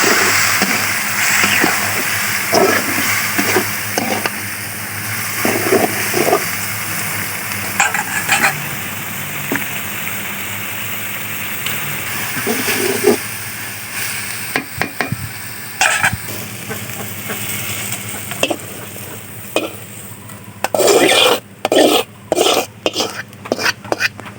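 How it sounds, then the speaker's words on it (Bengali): Leafy greens sizzle in hot oil in a pan as they are tempered, a continuous frying hiss with frequent scraping and stirring knocks of a spoon against the pan, close and fairly loud, with a flurry of sharp clatters near the end. "তো এই দেখুন শাক বাগার দিচ্ছে"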